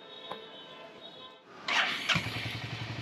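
A rented motorcycle being started for a test ride, with a quiet lull before the engine catches and settles into a close, steady idle rumble.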